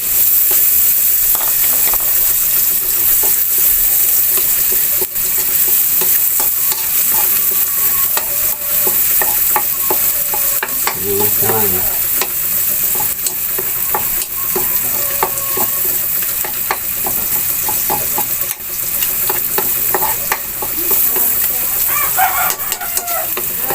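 Onion and garlic sautéing in a pan for a squid and shrimp adobo, with a steady sizzle and stirring throughout, a rooster crowing faintly in the background.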